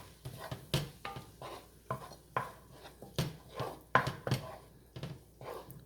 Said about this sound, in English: I'm going to give it a stir here.